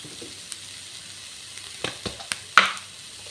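Onion and garlic frying on a low flame, with a faint steady sizzle broken by a few sharp stirring clicks and scrapes, one louder clatter near the end, and no talking.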